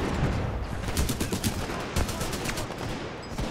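Rapid bursts of enemy gunfire in the video game Titanfall 2, dense overlapping automatic shots and single cracks firing continuously at loud volume for several seconds.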